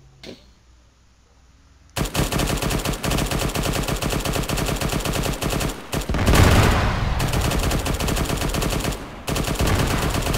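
Gunfire in Arma 3 starts after a quiet opening: sustained, loud automatic bursts that keep up with only brief gaps, some heavier blasts partway through.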